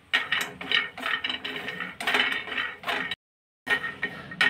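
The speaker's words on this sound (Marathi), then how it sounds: "याच पॅन मध्ये आपण हे बदाम घेणार आहोत, ते सुद्धा भाजून घ्यायचे।" Almonds being roasted in a pan for jaggery peanut laddoos, rattling and clinking in bursts as they are stirred, close and fairly loud, with a brief silent pause near the end.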